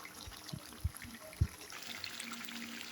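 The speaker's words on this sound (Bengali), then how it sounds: "আর একটু কষিয়ে আমি এর মধ্যে একটু জল দিয়ে দিই।" Water being added to a simmering Bengali-style chicken curry: a few faint splashes and soft pours near the start, followed by a quiet low bubbling hiss in a kitchen.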